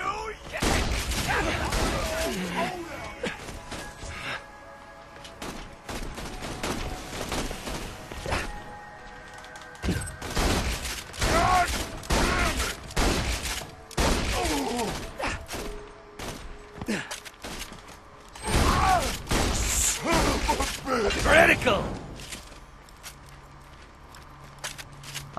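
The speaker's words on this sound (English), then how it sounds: "I like this shotgun a lot." Shotgun fire in Borderlands 2 comes as loud, heavy bursts separated by short quieter gaps, with some voices scattered between the shots.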